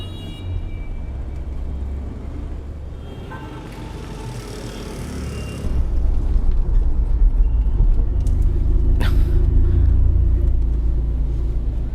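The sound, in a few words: heavy road traffic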